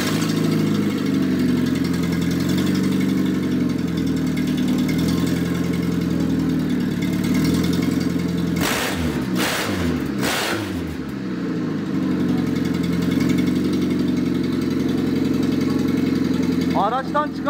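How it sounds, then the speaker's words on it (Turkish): A rebuilt 1.3-litre Kia Pride engine idles steadily with a low, even rumble, broken by a few sharp cranking or revving bursts midway, then settles back to a constant close-up idle. "Araca marş yapıyoruz."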